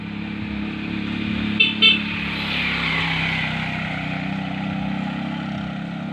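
A motorcycle engine hums steadily at a distance outdoors, with a brief higher-pitched note near the start, as the engine drones on without much change.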